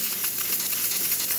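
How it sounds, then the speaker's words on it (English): A steady, broad hiss of steam jets from the steam wand of a Breville Duo espresso machine, continuous and close, with no talking. "steamer, nice and steady steam coming out of the machine"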